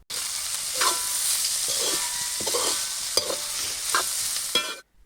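Chicken fried rice stirred in a hot pan, a constant sizzle broken by repeated scraping strokes of a spatula at an uneven rhythm, stopping abruptly at the end.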